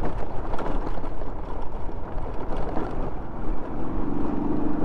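Vehicle engine labouring on a South American road while coasting downhill, a loud, continuous low rumble buffeted by wind noise, with no talk.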